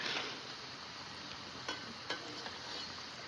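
Vada frying in plenty of oil at a roadside stall, a faint, steady hiss of bubbling oil with a few small clicks from stirring.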